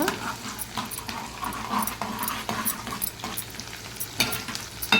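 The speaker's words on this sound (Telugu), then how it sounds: "ఇప్పుడు మాత్రం క్యారెట్ ఫ్రై చేస్తున్నాను" Carrot fries in a pan with curry leaves, giving a continuous soft sizzle with rhythmic scraping and stirring strokes, while a voice talks intermittently over it.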